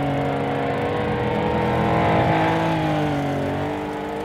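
3-litre racing cars roar across the finish line, a loud sustained engine drone with rising and falling pitch as several cars pass close by, no voices.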